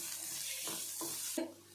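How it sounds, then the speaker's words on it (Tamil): Quiet sizzling of chopped onions frying in oil in a pan, broken by three short scraping strokes as they are stirred. "இதையும் சேர்த்து நல்லா வதக்கி விட்டுக்கலாம்"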